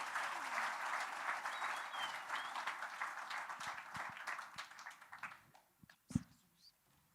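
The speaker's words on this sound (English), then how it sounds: "So another round of applause for him, certainly" Audience applause at a lecture and discussion event swells loud at first, then gradually thins and dies away into a few scattered claps and small noises near the end.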